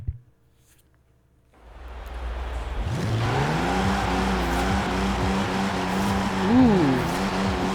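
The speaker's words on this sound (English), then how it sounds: "Okay, let's run the car again." A Toyota 2000GT in Forza Horizon 4 starts up after a quiet moment, then its engine hums and revs while driving, with a rising and falling tone and a brief higher-pitched swell near the end, and no voices heard.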